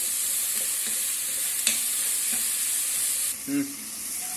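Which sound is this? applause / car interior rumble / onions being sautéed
onions being sautéed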